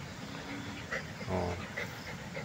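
A mother dog who gave birth the night before pants softly beside her five newborn puppies, with faint whimpers and a brief louder whine, heard close and quiet indoors without talk.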